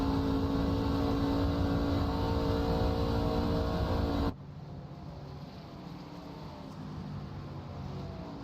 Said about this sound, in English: Hear him get out of the gas and put more steering input in.